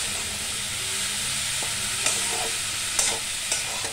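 Sandwich masala with cabbage fries in a pan under a loud, continuous hiss, with a few sharp scraping stirs breaking through near the end, close up and without voices.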